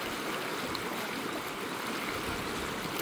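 River water flowing around a town, a steady rushing babble like a stream, continuous and even at moderate level, with no voices.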